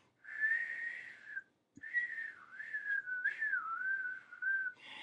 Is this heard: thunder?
no